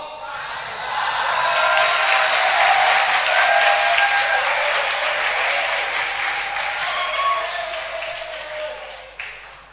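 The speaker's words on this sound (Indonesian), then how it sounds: "jangan cuma tepuk tangan" Audience at a Nahdlatul Ulama religious study gathering in Indonesia bursts into sustained applause, loud and dense for several seconds before tapering off near the end.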